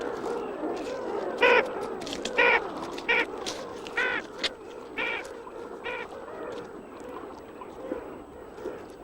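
Gulls and their chicks calling at a mountain lake in the Celestial Mountains: repeated sharp squawks and cries over a steady murmur of many birds, loud and close, with no talk.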